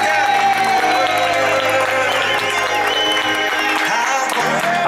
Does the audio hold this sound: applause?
yes